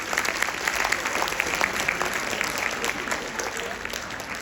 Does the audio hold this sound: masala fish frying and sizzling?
no